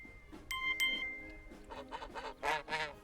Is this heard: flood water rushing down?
no